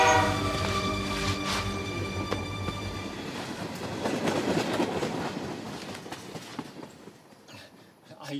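A train rumbles along with a steady rolling noise and tonal whistle-like hum, fading toward the end; voices murmur faintly underneath.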